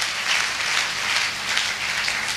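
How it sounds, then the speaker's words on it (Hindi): A crowd at a network marketing seminar breaks into sustained applause, a steady wash of many clapping hands heard at moderate loudness with no voices over it. "इसके लिए तालियां होनी चाहिए।"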